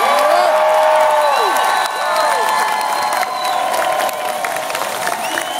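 Crowd at a Wisconsin political rally for a governor candidate cheers and applauds loudly, with whoops and shouts layered over continuous clapping that eases slightly toward the end.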